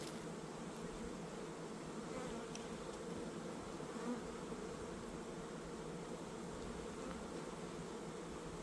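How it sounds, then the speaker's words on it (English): Honeybees in an open hive during an inspection, with drones and the queen present, give a dense, continuous close-up buzzing hum that holds steady at moderate level with no talking. "Male bee right there. I see the queen on here too."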